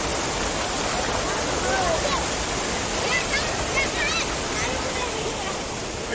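Shallow river water runs over a rocky bed in a continuous broadband rush, with faint voices and children's calls carrying in the background.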